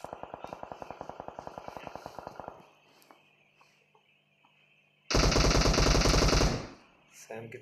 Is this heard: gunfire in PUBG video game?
yes